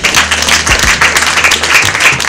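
A crowd claps and applauds at a wedding celebration in Rubavu, a dense, loud, continuous patter of hands with a low murmur beneath.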